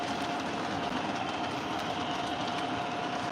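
An O scale model Amtrak F40PH diesel passenger train runs along its track with a steady, even rolling hum and a faint whirring tone, quiet and unbroken throughout.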